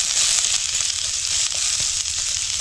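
Onions sautéing in a pan for a Tamil-style fish curry, a steady close sizzle and crackle of frying that holds loud and even throughout without any talk.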